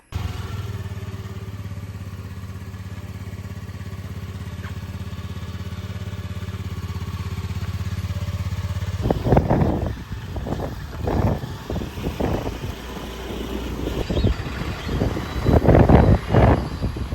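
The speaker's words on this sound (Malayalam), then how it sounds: "ഞങ്ങൾ സ്കൂട്ടിയിലാണ് പോണത്." A scooter ridden along a road, its engine humming steadily at first, then gusting wind buffets and rough road rumble take over as it moves along, loud and close throughout.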